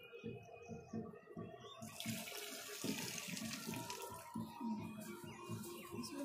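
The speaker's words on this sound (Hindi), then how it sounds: "लाइन लगा के सब पानी डाल रहा है" During the last day of the Chhath festival, people stand in a line and pour water one after another. The result is steady, continuous splashing and gurgling, with rhythmic surges of pouring throughout.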